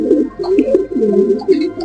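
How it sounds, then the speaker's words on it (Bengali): A Laldom pigeon coos up close in a short, loud, rolling burst of low throaty notes, with no voices. "এটা হচ্ছে লালদম কবুতর"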